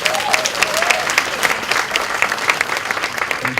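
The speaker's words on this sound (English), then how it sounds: "Give that a round of applause." An audience at an event breaks into loud, close applause, a dense patter of many hands clapping steadily throughout.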